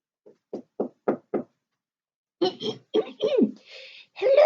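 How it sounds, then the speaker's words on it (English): Five quick knocks on a wooden door, close and evenly spaced, followed by a pause and then a person speaking. "And when he got there, he knocked on the door."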